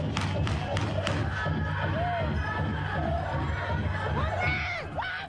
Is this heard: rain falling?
no